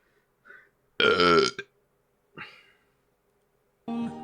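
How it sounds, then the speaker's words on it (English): A weird, drawn-out burp rises loud and close, then fades, with a few short, fainter throaty bursts around it and quiet gaps between. "That was a weird burp."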